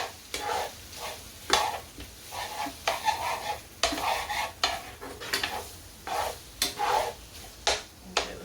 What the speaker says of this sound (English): let's get these vegetables mixed in